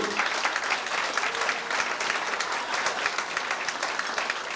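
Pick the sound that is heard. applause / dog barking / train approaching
applause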